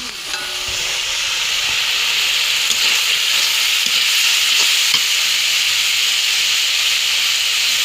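Potato, ridge gourd and drumstick-type stalk vegetables frying in cooked spice masala in a pan, a loud, steady sizzle and hiss with occasional stirring scrapes, no talking.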